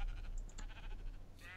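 Sheep bleating in a Minecraft-style crafting game, with a few short, fairly faint calls over a steady low background hum.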